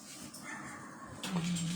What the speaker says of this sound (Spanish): Tengo que reprender hasta mi perro acá.